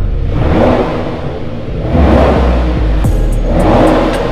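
A tuned Toyota Supra's engine revs up and down in loud, close surges. The deep roar swells twice and a brief pop or crackle sounds near the end.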